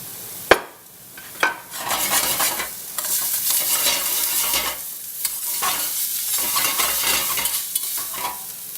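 Garlic frying in oil in a pan while cooking a Thai peanut curry with chicken: a couple of sharp clinks of a utensil against the pan, then a steady loud sizzle with stirring scrapes throughout.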